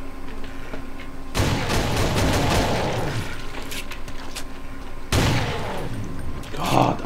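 Gunfire in the shooter game Call of Doom, loud bursts of rapid shots and blasts in a lab level, two dense volleys separated by steadier background din, with game noise underneath.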